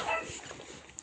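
A dog on a Turkish livestock farm gives a short, high whimpering yip at the start, then fainter whines trail off over quiet outdoor background.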